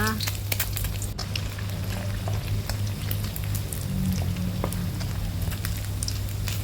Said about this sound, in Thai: แล้วเราก็จะเอาลงไปทอดใหม่ค่ะ ทอดให้เหลืองทั้งสองด้านนะคะ